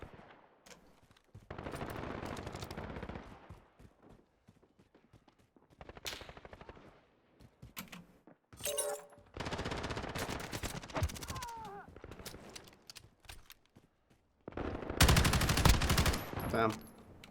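Automatic gunfire in Modern Warfare multiplayer on PC comes in several loud sustained bursts separated by short lulls, with brief clatters between them.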